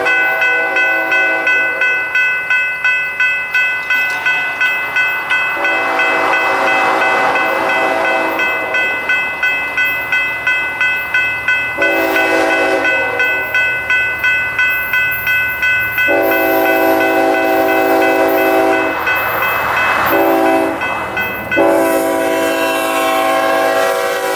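A BNSF freight train rumbles past steadily in Oklahoma with a rhythmic clatter of wheels, its horn sounding loudly several times in long blasts.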